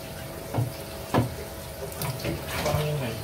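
Water running into an aquarium as it is filled from a pump line, a steady broadband splash and gurgle with a few brief louder bursts throughout, close by and alone.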